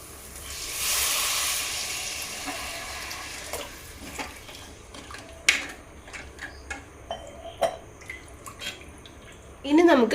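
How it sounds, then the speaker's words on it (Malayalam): Water poured into a hot pan of sautéed masala for a koori fish curry, a brief rushing splash and hiss up front, then scattered drips, small pops and soft sizzling in a quiet kitchen. "ഇനി നമുക്ക് കുറച്ച് വെള്ളം ചേർക്കാം."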